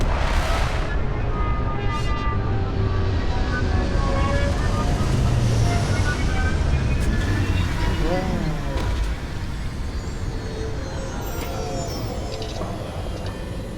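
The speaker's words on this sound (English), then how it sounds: "Retros firing." Spaceship retro thrusters firing during a landing in Starfield, a loud sustained roaring rumble with a bright hiss at the start, steady throughout and easing slightly near the end, with talk over it.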